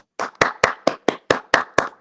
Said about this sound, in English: join me in applauding the newest Bluefield Ram, Mrs. Sophie Scarberry